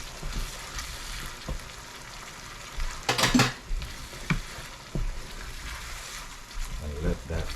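Plum sauce stirred into spicy snapper fish nuggets frying in a pan, with a soft steady sizzle broken by a few louder scraping stirs and clatters.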